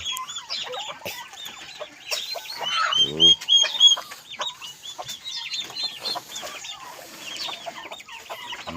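Hens cluck nearby in a brooding pen, with chicks just hatching. Repeated short clucks and chirps overlap throughout, with one louder, longer call in the middle and quieter farmyard background around them.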